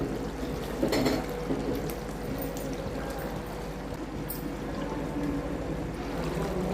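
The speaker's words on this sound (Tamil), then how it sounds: "குழம்பு நல்லா கொதிச்சுட்டு இருக்கு." Egg kuzhambu boils in a pan on the stove with a continuous soft bubbling and gurgling at a steady low level, and no talk.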